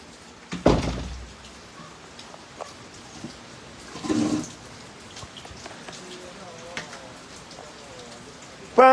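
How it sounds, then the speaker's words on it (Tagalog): Steady rain hisses throughout, with a couple of louder swells of water noise and faint background sounds. "Grabing ulan, guys."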